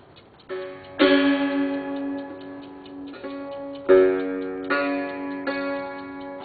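Plucked strings on a homemade fretless string instrument ring out in a few separate strums, each decaying slowly with a twangy, sliding pitch, played alone at close range.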